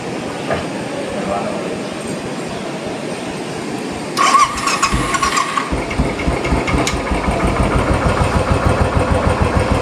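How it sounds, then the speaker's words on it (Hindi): Royal Enfield motorcycle engine idling after a cold start on a cool morning, a steady loud close thumping that grows rougher and busier about halfway through as the revs pick up. "उम्मीद नहीं थी मेरे को रॉयल एनफील्ड इतनी जल्दी चालू हो जाएगी"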